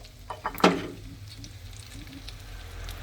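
An egg drops into hot oil in a pan with a sudden loud crackling burst that settles into a softer, steady sizzle.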